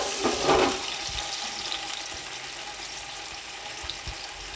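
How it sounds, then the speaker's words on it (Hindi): Garlic and ginger paste dropped into a pan over lowered heat for beef pulao, opening with a brief loud hiss that settles into a steady, even frying sizzle, with no speech. "इसमें हम सबसे पहले डालेंगे लहसुन और अदरक का पेस्ट"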